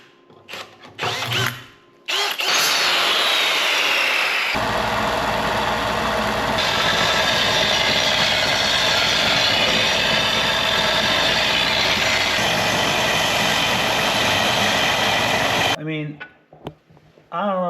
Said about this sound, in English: Probably take it to the belt sander.